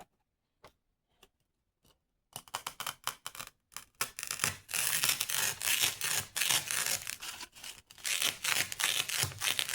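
Scissors snip through paper party favors in a run of quick, crisp cuts: a few sparse isolated snips at first, then a dense, steady stretch of close, fairly loud cutting.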